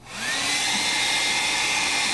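A handheld hair dryer blows air over a layer of art paint, a steady mid-loud whooshing whir that starts up and then holds evenly with no talking.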